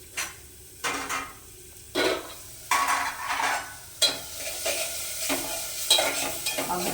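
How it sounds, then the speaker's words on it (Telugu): Sliced onions frying in oil in a kadai, a steady close sizzle broken by repeated scraping stir strokes and light clinks of the spatula against the pan. "మగ్గునే ఉన్నాయండి ఉల్లిపాయలు"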